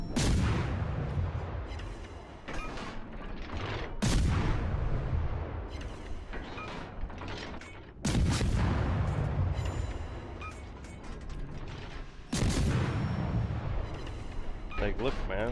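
Heavy naval gunfire from the destroyer Maass firing armour-piercing shells in a naval warfare game, several loud booming salvos a few seconds apart under someone talking.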